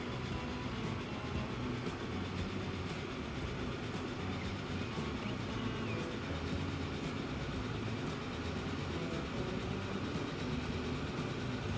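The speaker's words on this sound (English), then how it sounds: "Go, go, go, little train. We're up to 80 kilometers an hour." A train runs steadily at about 80 km/h in the Transport Fever 2 video game, giving a continuous, even rumble with faint rhythmic clicks, loud and close throughout, with no talking.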